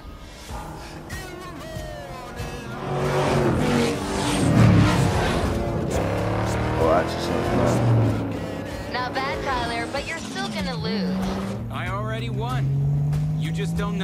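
Race car engine in the video game Need for Speed Payback, loud revving and accelerating that swells and drops with gear changes and passes across about fourteen seconds, with music-like tones mixed in.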